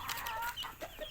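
A hen clucks softly in a few short broken calls, fairly faint against an outdoor backyard background.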